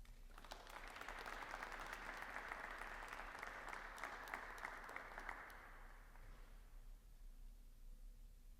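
Sustained audience applause welcoming lecturer Matthew Walther to a law history lecture, a dense steady clapping from a room full of listeners that fades after about six seconds.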